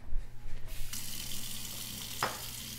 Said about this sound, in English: Are you washing your hands? You should be washing your hands right now.